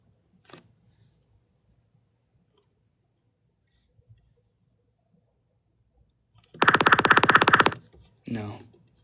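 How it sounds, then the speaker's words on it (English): Synthesizer note C1 played with heavy distortion, a loud, harsh, buzzing tone held for about a second, preceded by faint clicks and followed by a brief rougher burst. "Let's put distortion on it."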